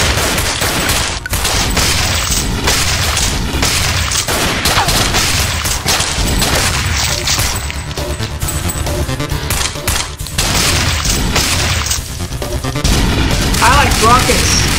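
Rocket explosions and rapid weapon fire in the flash game Thing Thing Arena Classic, a dense, continuous barrage of booms and gunfire with no pauses, loud and crowded throughout.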